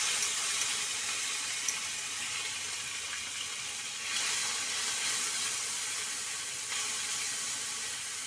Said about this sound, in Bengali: যতক্ষণ না তেল ছাড়বে ততক্ষণ এটাকে আমি ভেজে যাব আর কি, নাড়াচাড়া করে তেলটাকে আর কি।